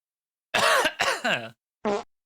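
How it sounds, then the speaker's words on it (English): A fart sound effect, triggered as a stream redeem, plays three times in quick succession: two longer, wavering blasts close together, then a shorter one after a brief silence. "Sorry for the repeated fart sounds"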